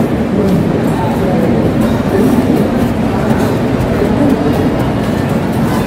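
A train rumbles at a railway station platform on the Bengaluru to Howrah route, a loud, continuous low roar with rolling mechanical noise filling the whole stretch, heard up close.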